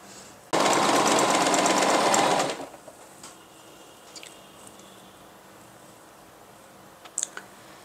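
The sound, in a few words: sewing machine stitching fabric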